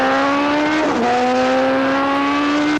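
Superbike motorcycles accelerate hard on a race track, a loud, close engine whine climbing in pitch with a brief dip at a gear change before rising again, sustained throughout.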